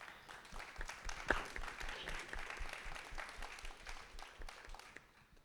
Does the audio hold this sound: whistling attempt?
no